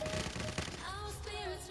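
Rapid bursts of shotgun fire crackle in a busy Gods of Boom game soundscape, several shots in quick succession over constant background noise.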